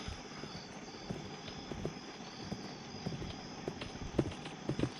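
Horse hooves clip-clopping in a Western-themed video game, a steady close trot of irregular hoof knocks over a faint background of crickets and ambience, with no talk.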